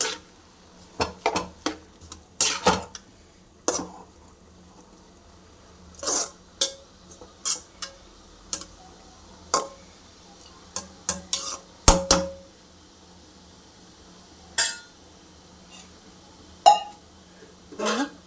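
Cassava cooking in water in a pot is stirred with a utensil, producing irregular scraping knocks and clinks against the pot in short bursts separated by quiet pauses, close and moderate in level.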